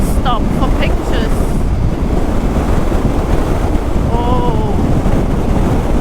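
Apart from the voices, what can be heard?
strong wind buffeting the microphone on a motorcycle ride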